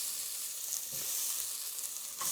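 Steady, fairly loud sizzle of cinnamon and bay leaf frying in hot oil as the base for tomato rice, broadband crackle running continuously with small pops and no voices.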